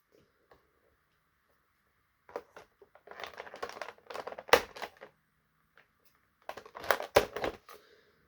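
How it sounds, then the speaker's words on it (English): Scissors snip through twist ties on a toy's packaging, snipping and crunching close up in two bursts, with quiet gaps between them and a few sharp clicks mixed into each burst. "Bunch of twist ties, but twist ties be damned, I have scissors."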